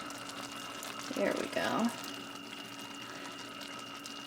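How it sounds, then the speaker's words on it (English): Liquid poured into a pot with the burner switched off, a short splashing gurgle of about a second under a brief spoken remark, set against a faint steady background hum. "And then we're gonna give this a pour."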